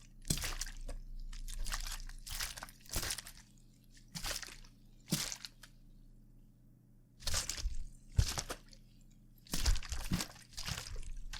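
A series of sharp, wet slapping smacks in irregular bursts, some in quick clusters, imitating a fish flopping and slapping, with quiet gaps between.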